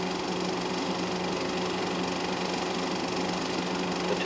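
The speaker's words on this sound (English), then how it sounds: "There's the signal to start the engines. And there goes the start." Race car engines idling and running together on the starting grid of a novice race that includes Corvettes, a continuous steady mechanical drone with a buzzing hum, moderately loud and without voices.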